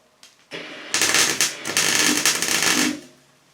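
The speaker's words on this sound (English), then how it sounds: "I'll just weld this in now all the way around." MIG welding a repair section into the bodywork of a Vauxhall Kadett during restoration: a close, loud, crackling buzz in several sustained bursts with brief gaps, alone with no talk.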